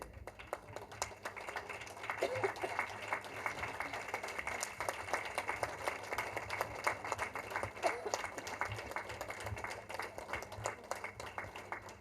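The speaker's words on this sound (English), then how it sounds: "keep the applause going on while she walks up on stage" Audience applause at an award ceremony in Mumbai, sustained and fairly dense over the whole stretch after a quieter start, with a murmur of voices mixed in under the clapping.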